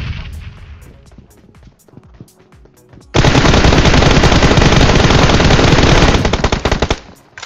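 Sustained automatic gunfire erupts loud and close in PUBG Mobile, a rapid burst of shots lasting about three seconds after quieter scattered game sounds, then tapering off into fainter shots.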